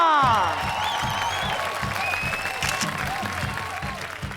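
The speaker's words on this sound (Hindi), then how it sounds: "तालियां।" Applause from the audience of a Hindi children's fantasy TV show rises over a rhythmic pulsing music bed, with whooshing and swept tonal effects, the clapping steady and mid-level throughout.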